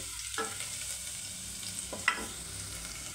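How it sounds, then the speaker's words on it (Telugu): Chopped garlic pieces sizzling in hot oil for pasta, a steady fizzing hiss with a couple of sharp stirring clatters, close and alone without talk. "ఇదిగోండి, కట్ చేసి పెట్టుకున్న ఎల్లిపాయ ముక్కలండి వేయించుకోవాలండి."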